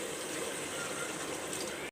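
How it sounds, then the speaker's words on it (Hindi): Water pours steadily into a cooking pot for vegetable pulao, a continuous rushing splash that stops abruptly at the end, with no talk. "अब हम इसमें पानी डाल देंगे।"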